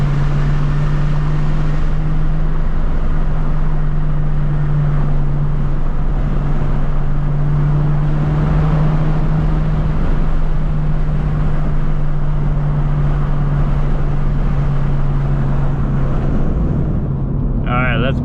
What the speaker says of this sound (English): I don't even think you guys can hear the exhaust. It's mostly the wind noise.